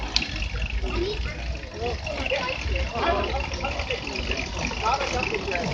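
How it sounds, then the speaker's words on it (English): Water sprays steadily from a shower head powered by pedaling a bicycle at an outdoor Earth Day festival in North Conway, a continuous hiss under crowd noise and nearby voices talking. "Doing the pedal-powered shower head display."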